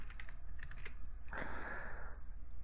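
Quick run of keystrokes on a computer keyboard while a name is entered, a short flurry of close, crisp clicks lasting about a second against a low hum.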